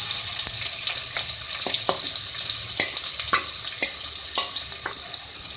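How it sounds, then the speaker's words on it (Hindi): Two medium onions frying in oil for a chicken aloo matar curry, with a bright, steady sizzle close by and a series of sharp spoon scrapes and taps against the pan. "ऑयल में हम 2 मीडियम साइज़ के प्याज इसमें ऐड करेंगे"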